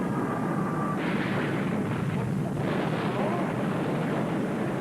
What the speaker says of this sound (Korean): 마침내 비행기를 폭파시킨다